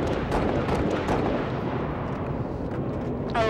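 Sniper rifle fire in the video game Halo Reach, with a few loud, sharp shots ringing out over dense, booming battle noise throughout.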